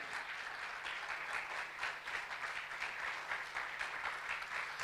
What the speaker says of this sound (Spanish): si alguien puede aplaudirle al Señor bien fuerte